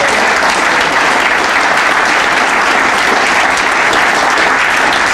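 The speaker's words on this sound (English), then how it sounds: "Can we give him a round of applause?" A crowd at a hotel grand opening celebration gives a loud, sustained round of applause for an honoree, thick continuous clapping close by with no speech over it.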